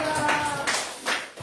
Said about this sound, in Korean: 할렐루야, 박수 한번 드립시다.